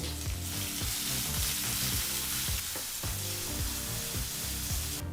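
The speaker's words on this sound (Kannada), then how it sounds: "ಈಗಿಲ್ಲಿ ಈರುಳ್ಳಿನ ಮೀಡಿಯಂ ಫ್ಲೇಮ್ನಲ್ಲೇ ಎರಡರಿಂದ ಮೂರು ನಿಮಿಷ ಚೆನ್ನಾಗಿ ಫ್ರೈ ಮಾಡಾಯಿತು" Chopped onion and curry leaves fry steadily in a pan over a medium flame, a continuous close sizzle broken by regular scraping stirs, with no voices.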